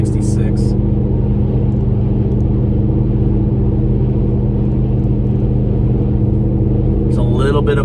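Car fitted with a Magnaflow Overland Series exhaust climbing a hill at about 62 mph, a steady low-end drone and rumble that continues throughout, with brief voice at the start and end.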